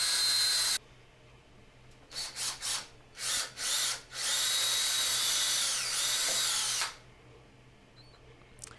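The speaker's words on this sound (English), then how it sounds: "I went ahead and screwed in holes for the subwoofer mounting" A power drill drives screws into MDF for a subwoofer mounting, starting with a long whine, then several short bursts, then a sustained run that tapers off, close and loud against a quiet background.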